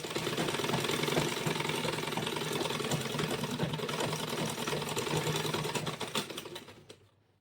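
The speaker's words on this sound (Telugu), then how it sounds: "లైనింగ్స్ రెండు స్టిచ్ చేసేసిన తర్వాత మన మెయిన్ ఫ్యాబ్రిక్ని కూడా మన వైపు పెట్టుకొని స్టిచ్ చేసేసుకోవాలండి" A sewing machine stitches the main fabric of an umbrella-style frock being made from a jumpsuit, running in a steady, loud, continuous whir for about six seconds before winding down and stopping near the end.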